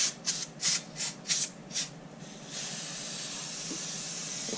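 Several short hissing bursts of brake cleaner aerosol in a quick rhythm, followed by one long continuous spray, close and fairly quiet, while cleaning a Honda TRX 200SX fuel tank.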